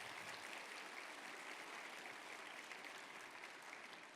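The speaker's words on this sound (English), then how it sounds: "One more round of applause for Daniel Dawes." A community health symposium audience applauds Dr. Daniel Dawes at an opening plenary: a steady, even patter of clapping that holds at a distance and fades slightly at the end.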